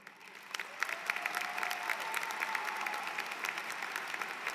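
Applause for faculty members at an online undergraduate business and STEM programs graduation ceremony, a sustained wash of many hands clapping steadily for several seconds, fairly distant and even, with no talk over it.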